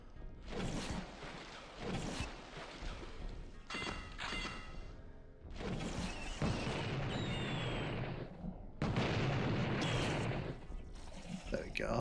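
Napalm launcher blasts in the video game Blood, heavy rumbling explosions bursting in three loud surges with crackling debris, while someone talks over the barrage.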